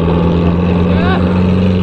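Yamaha R15 V3 motorcycle engine running steadily with a loud, constant hum and a brief rising rev in the middle, recorded on a mountain road with wind noise throughout.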